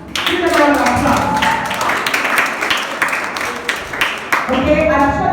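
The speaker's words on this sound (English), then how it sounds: "Give them a round of applause." An audience at a senior high school intra-class debate competition claps in scattered, uneven bursts, loud and near, while a voice talks over the applause at its start and end.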